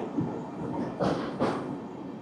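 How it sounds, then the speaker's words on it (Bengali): A train rolls slowly across an open bridge over standing floodwater, giving a steady low rumble with two brief louder bursts of wheel noise close by. "দেখতে পাচ্ছেন এখন একটা ব্রিজ মতো পার হচ্ছে, ওপেন ব্রিজ, কোনো সাইডে কোনো হাঁটার রাস্তা নেই, প্রচুর জল জমে আছে কিন্তু, তাই ধীর গতিতে চলছে।"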